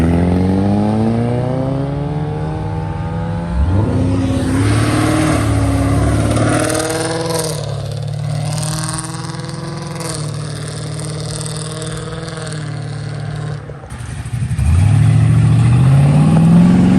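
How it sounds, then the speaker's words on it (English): A classic car pulling out of a car meet revs hard in rising sweeps, drops back, then roars up again, loud and close with the engine tone climbing each time. "we got the first car leaving"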